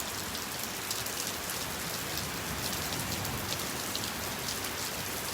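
Steady rain falls on a Florida beach at Delnor-Wiggins on a stormy morning, a dense, even hiss of drops with no pauses, close and moderately loud, with no voices.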